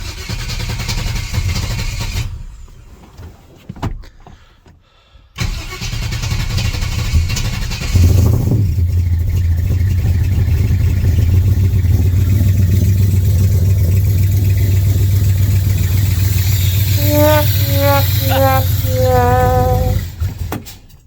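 Chevy 355 V8 with too much ignition timing, blown head gaskets and some spark plugs left out: it cranks in rough bursts, pauses, then catches and runs with a loud, uneven rumble, finishing with a few sharp rising revs.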